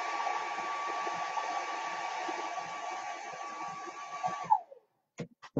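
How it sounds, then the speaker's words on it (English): A hair dryer blows steadily and loud on wet paint for about four and a half seconds, then cuts off, leaving a few soft knocks and handling sounds. "I'm just blow drying that a little bit"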